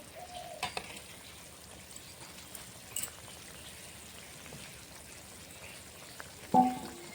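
A tilapia fish curry simmers in a pot, giving a faint, even crackle of small bubbles like light rain, broken by a couple of soft knocks and a louder clack near the end.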